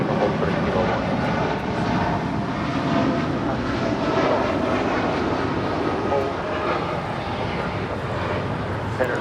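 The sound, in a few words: Japan Airlines Boeing 787-8 Dreamliner departing LAX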